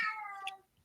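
A single short cat meow with a falling pitch, fairly close and clear, fading out quickly.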